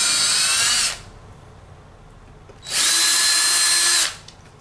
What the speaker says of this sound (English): don't drill down too far, because then you'll come out the other side of this.